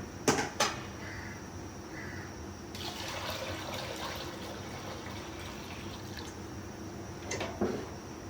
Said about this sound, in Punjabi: ਇਹਦੇ ਵਿੱਚ ਪਾਵਾਂਗੇ ਪਾਣੀ